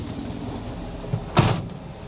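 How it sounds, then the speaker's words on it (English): Inside a 1979 Ford F250, a short window-motor whir and a soft thump, then a louder, brighter burst as a window seats closed, over a low steady engine background with no voices. "now that we get the windows rolled up"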